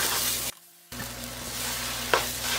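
Banana halwa fries and is stirred in a pan over a high flame, giving a loud continuous sizzle with scraping stirs, a brief near-silent gap, then one sharper clink of the spoon.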